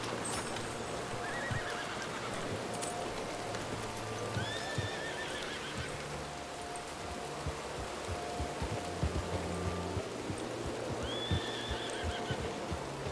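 In the RedM western roleplay game, a horse repeatedly whinnies and neighs while hooves clip-clop on the ground, over a constant background of rain-like ambience.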